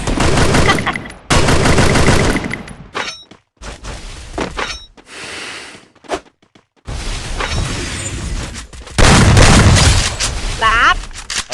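In the mobile shooter Free Fire, bursts of gunfire and shattering impacts crack loudly in uneven clusters with brief gaps between them, and a voice talks over the action.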